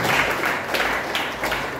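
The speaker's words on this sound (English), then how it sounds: "So give him a round of applause for that." An audience at a Liberian investment team engagement event claps in a brief burst of steady applause.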